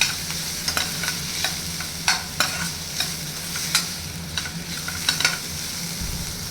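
Onions for an egg fry sizzle in a pan as a spatula stirs them, giving a steady frying hiss with regular, close metallic taps and scrapes.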